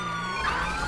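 A police siren in the video game GTA 5 wails steadily in the background, its tone gliding up and down over a low engine rumble, with no voices.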